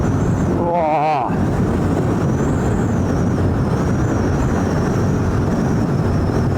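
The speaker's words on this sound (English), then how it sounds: "When the wind is this high, it feels like riding through syrup." Strong gusting wind roars into the helmet microphone of a rider on a KTM 390 Duke motorcycle. It is a loud, constant buffeting rush, with a brief flutter early on.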